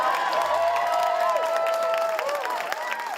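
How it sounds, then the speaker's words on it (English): A crowd in a courtroom claps and cheers after an exoneration, a broad continuous wash of hands and voices, with some talk and crowd murmur mixed in throughout. "You are able to clap."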